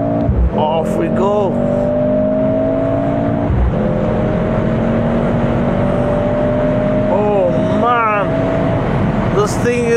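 A car drives off with a steady, close engine hum that holds a constant pitch throughout, while voices talk over it.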